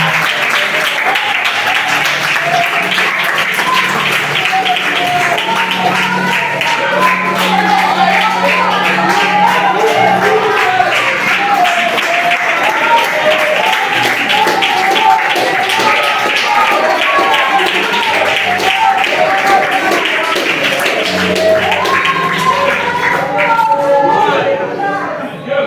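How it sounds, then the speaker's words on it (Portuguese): A church congregation claps steadily and loudly for about twenty-five seconds, with a dense wash of applause, a few cheers and crowd chatter mixed in, tapering off at the very end. "Você pode aplaudir a Jesus pela vida dele."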